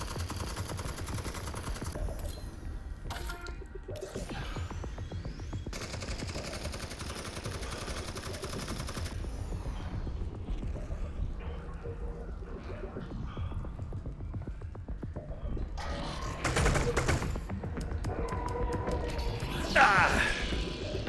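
Gunfire in Half-Life: Alyx, repeated bursts of shots and clattering through a busy stretch of play, with spoken remarks over the shooting and louder bangs toward the end.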